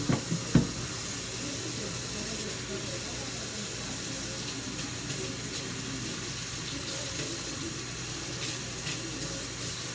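Hot tap water runs steadily into a sink while a kitchen knife is scrubbed clean, a continuous close hiss lasting the whole stretch with a couple of small knocks at the start.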